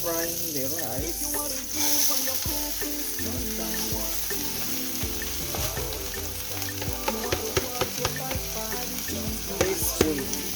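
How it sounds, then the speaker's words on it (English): Rice frying in a hot pan while being stirred, a continuous close sizzle with scraping and clattering of the spoon against the pan throughout. "So I will start frying the rice."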